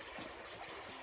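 Becka Brook on Dartmoor flows by a riverside camp, a faint, steady broadband rush of running water heard alone for about a second.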